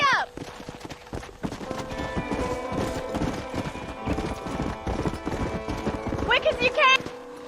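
Hoofbeats of a galloping horse in the Western game Red Dead Redemption drum steadily and close, with a whinny near the start and another toward the end, all over a bed of background music.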